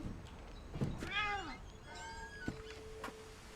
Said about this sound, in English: I heard a cat. There's a cat.